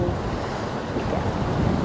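Strong coastal wind buffeting the microphone over surf on the Isle of Harris near Scalpay lighthouse, a loud continuous roar with no distinct breaks.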